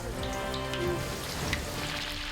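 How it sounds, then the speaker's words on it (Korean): Battered chicken sizzles and crackles as it deep-fries in hot oil, a dense, steady frying hiss with scattered pops, close by. "식욕을 자극하는 자글자글한 소리와 함께 튀겨내는데요"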